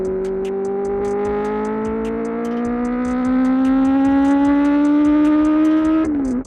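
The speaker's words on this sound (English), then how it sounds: "Who doesn't love the sound of a deeper, more aggressive exhaust note?" A motorcycle fitted with a deep, aggressive aftermarket exhaust holds a steady, droning engine note that climbs slowly in pitch, loud and close, then cuts off abruptly at the end.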